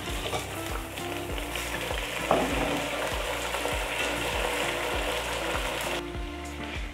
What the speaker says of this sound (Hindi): अब हम इसमें शामिल कर लेंगे चिकन।